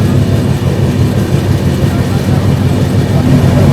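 Loud, steady low rumble and rattling roar from inside the Farakka Express passenger train running through India, a continuous close-up din without pauses.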